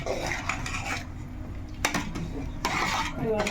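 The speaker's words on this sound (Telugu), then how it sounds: "స్పూన్ అయితే వేసుకొని కలిపేసుకుందాం" A spoon mixing masala paste into a pot of partly cooked biryani rice, with a few metallic scrapes and clinks against the pot, close, with a voice talking over it.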